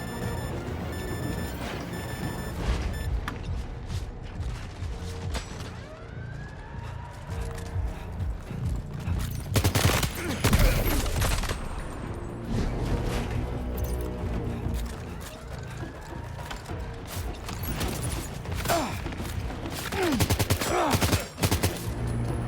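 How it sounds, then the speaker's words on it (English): Gunfire erupts in the video game Death Stranding 2 as suppressive fire, with bursts of rapid shots and clattering mechanical sounds over a busy game mix, loudest midway and near the end. "Suppressive fire!"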